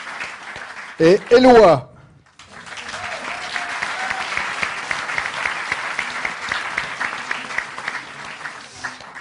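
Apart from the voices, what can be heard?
audience applause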